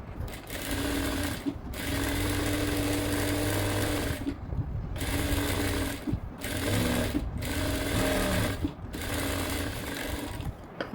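A sewing machine stitches blouse pieces together in a series of rapid, loud whirring bursts, each lasting one to three seconds, separated by short pauses as the fabric is repositioned, with no voices.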